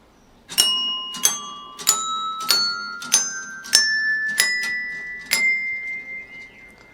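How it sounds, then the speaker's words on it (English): Air rifle pellets strike the clappers of a musical bell target, ringing eight bells one after another at a steady pace, each clear metallic ding a little higher in pitch than the last, with the final note left to fade. "you shoot these clappers, they hit the bells and ring them. So that's what it sounds like."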